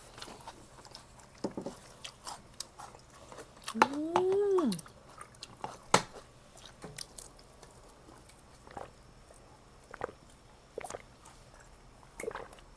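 Crunchy chewing of spicy grilled chicken with papaya salad and sticky rice in a close, irregular series of bites and mouth sounds, with a brief voice murmuring partway through.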